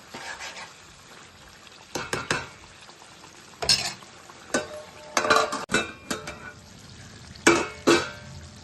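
A spoon stirs tomato chicken fry with yogurt in a pan, scraping and clinking in irregular bursts over a steady low sizzle, close and fairly loud.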